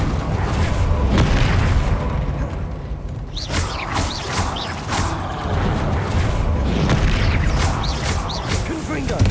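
A Confringo blasting spell explodes in the Hogwarts Legacy video game, with deep booms and crashing impacts over a continuous roar of game effects, while a player shouts beneath it.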